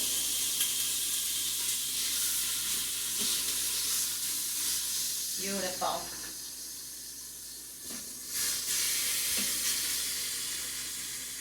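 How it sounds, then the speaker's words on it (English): A continuous sizzling hiss of birria meat searing in a hot pan, with a brief spoken word and a few soft clatters partway through. "place this at the bottom of our pan. And you should definitely hear a sizzle."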